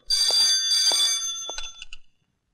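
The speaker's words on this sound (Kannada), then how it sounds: "ಫೋನ್ ರಿಂಗ್ ಆಗ್ತಾ ಇದೆ ತೊಳೋ" A telephone rings with two bright, trilling bursts of a bell, the second cut short, close and loud against a quiet room.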